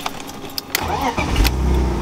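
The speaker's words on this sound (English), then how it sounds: "she starts right up perfectly every time" An old BMW bought for $100 cranks briefly with a few clicks and whirs, then catches and settles into a steady, close, rumbling idle.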